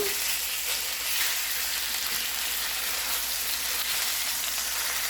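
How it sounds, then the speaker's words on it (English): Ground lamb browning in a hot skillet on the stove gives a steady, close, loud sizzle and crackle of frying fat with no break and no talk. "We're going to add in our lamb here. I'm going to smush that, pick this to brown."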